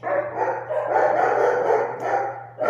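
Dogs in a backyard bark in a continuous, overlapping volley, fairly close and loud, over a low steady hum.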